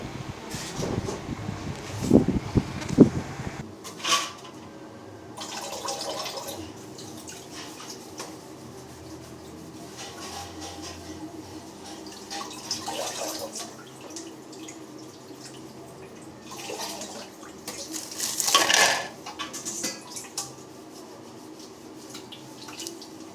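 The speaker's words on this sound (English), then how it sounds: "I'm washing out some sanitary plates to give the kids their meal in" Water runs and drips while sanitary plates are washed at a sink, with a louder burst of splashing near the start and another swell of running water later, otherwise a steady soft trickle with occasional clinks.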